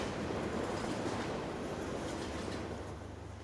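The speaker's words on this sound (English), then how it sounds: "you have a whole train going by" Rumbling rolling noise of a long train going by in the Farming Simulator 19 game, a steady broadband wash with low engine drone that holds throughout and eases slightly at the end.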